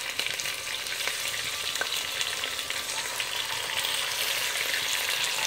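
Fish pieces sizzle in a pan for a fish curry, a continuous moderate frying hiss with occasional light stirring.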